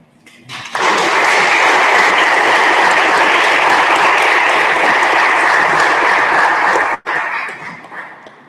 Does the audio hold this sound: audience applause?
yes